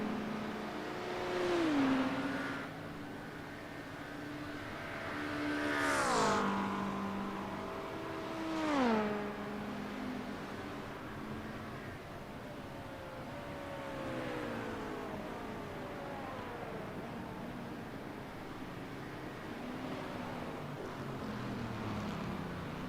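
LMP2 prototype race car engines in a racing video game rise and fall through repeated revving sweeps and gear changes, several whining passes at moderate level with no talk over them.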